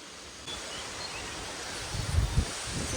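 Steady, breathy wind noise rushes across the microphone, swelling into low gusty buffeting near the end.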